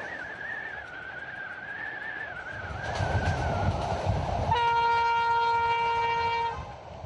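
Swedish Inlandsbahn train running through Lapland: a steady rolling rumble and clatter, with a long sustained horn blast of several tones in the second half, loud and fairly close.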